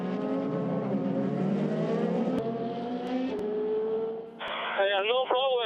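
Porsche and Toyota endurance prototypes race wheel to wheel in a 2014 World Endurance Championship round, engines droning and shifting pitch through a corner while a commentator talks over them, ending with a rising rev.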